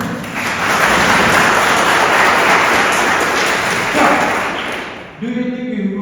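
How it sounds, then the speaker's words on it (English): An audience in a lecture hall claps continuously for about five seconds, a dense, loud, steady roar of many hands that then stops abruptly, leaving a short tail of room noise. "Can you clap once again?"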